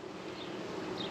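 Honey bees buzz at an opened nucleus hive, a dense and continuous hum heard close up for a moment with no pauses or talking.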